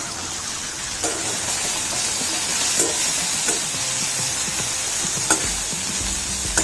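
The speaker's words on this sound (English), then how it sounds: "I'll flip over the spine gourd pieces so that it will be fried from both sides and cooked also." Spine gourd pieces fry in a pan with a steady, dense sizzle and crackle, punctuated by a few sharper pops and stirring knocks; no voices.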